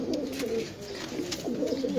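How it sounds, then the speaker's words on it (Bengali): Pigeons coo steadily at a pigeon farm in Mirpur, a low, continuous chorus of overlapping murmuring calls close by, with no talk. "একদম সুন্দর সুন্দর কবুতর, এমনকি বাচ্চাও আছে"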